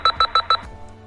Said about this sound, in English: As soon as you hear the beeper sound,